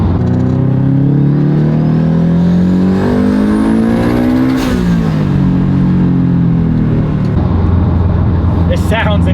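Fully built Subaru STI engine revving hard on a dyno, a loud roaring engine note that climbs steadily in pitch, peaks, drops briefly and then settles into a lower, rougher growl, with a voice speaking over it.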